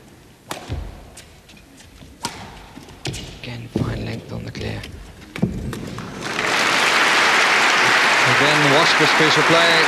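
Crowd at a 1979 Masters badminton match between Padukone and Frost bursts into loud, sustained applause that swells and holds steady, after a stretch of scattered shuttle hits, thuds and commentary.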